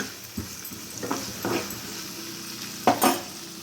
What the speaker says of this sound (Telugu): మొత్తం ఫ్రై అవ్వాలి కొద్దిసేపు మగ్గించుకుంటే సరిపోతుంది